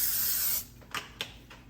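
Cooking spray hisses onto a pan before sautéing vegetables: one steady, loud spray of about half a second, then a few short, quieter puffs.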